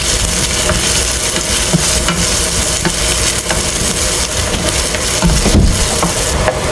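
Hotdog sautéing in a pan, a steady loud sizzle with crackling and occasional stirring scrapes, close and continuous with no talk.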